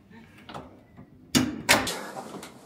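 A door slams shut with two sharp bangs in quick succession, close and loud, followed by a faint rattle, with people speaking quietly just before.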